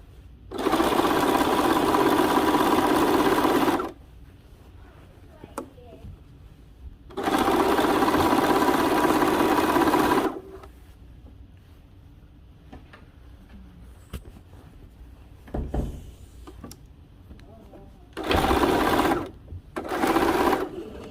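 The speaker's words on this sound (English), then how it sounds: "Then I'm going to take it to my machine and I'm going to stitch and stretch the midriff to fit as I stitch" Sewing machine stitching a stretched midriff seam on a dress, running in three long steady bursts of several seconds each with quiet pauses and small handling clicks between, close and loud.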